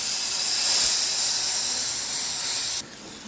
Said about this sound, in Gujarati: હવે આ વઘારને આ કઢીની અંદર બરાબર મિક્સ કરી દઈશું